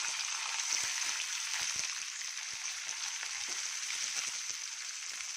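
Two onions chopped in a chopper fry in a pan, giving a steady, even sizzle with faint crackles and occasional stirring scrapes at moderate distance, with no one speaking.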